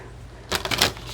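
A deck of cards is shuffled off to the side of a tabletop reading space, a brief close riffling burst of rapid papery flutters after a moment of quiet room tone.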